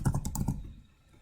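A handful of quick, soft keystrokes clatter on a computer keyboard, close and evenly spaced, then trail off into quiet.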